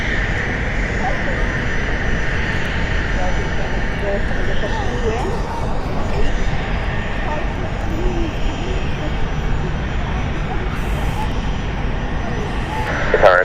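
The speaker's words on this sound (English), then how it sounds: "We finally get to see the Sun Air Dornier 328 jet" A Sun Air Dornier 328 jet at London City airport gives a steady, loud, broadband engine roar throughout, with a faint high whine and brief talk in the background.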